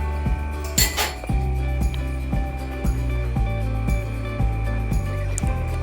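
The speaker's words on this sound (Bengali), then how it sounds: "হালকা নাড়াচাড়া করে ভাজা মাছগুলো দিয়ে দিচ্ছি" Fried pabda fish being added to a simmering mustard gravy and stirred in a pan, with a loud clink early on followed by regular scraping taps of a utensil against the pan over a steady background hum.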